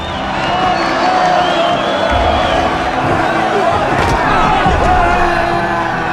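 Crowd cheering and whooping at a judo versus boxing match, a dense, steady roar of many voices filling the whole stretch with scattered louder shouts.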